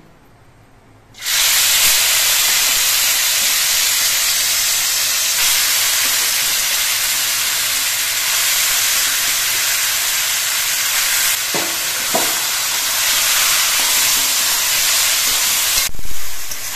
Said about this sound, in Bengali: এবার এই কচু শাকগুলো আমি তেলের মধ্যে দিয়ে দিচ্ছি।